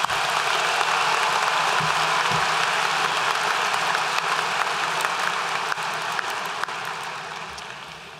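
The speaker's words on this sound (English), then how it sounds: "How about one more round of applause for our talented performers and speakers?" An audience applauds performers and speakers at a high school event, sustained dense clapping that stays loud throughout and only slightly tapers at the end.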